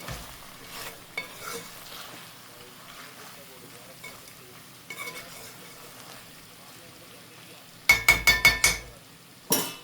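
Okra being stirred and mixed in a pan while cooking, soft scraping and faint sizzle under quiet background, ending with a run of sharp metallic clinks and taps against the vessel.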